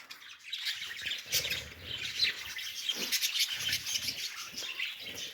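Pet parrots in a backyard aviary squawk and chirp repeatedly in irregular overlapping bursts, moderately close, with faint rustling between calls and no voices.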